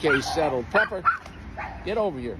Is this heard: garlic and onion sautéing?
no